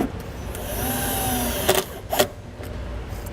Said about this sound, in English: Just place that self-tapping screw through the ring terminal